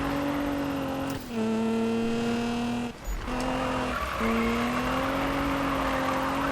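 A stock Nissan GT-R engine from the Need for Speed 2015 racing game drones steadily at high revs, with brief dips where the pitch falls and climbs again between gear shifts, loud and continuous with no talk.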